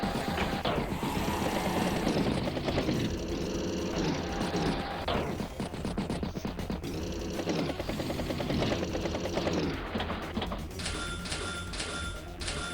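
Battlecopter and tank attack animation in Advance Wars by Web, with a chopping, buzzing rotor-like drone and mechanical clatter in bursts over quiet game music, ending in bright chiming tones.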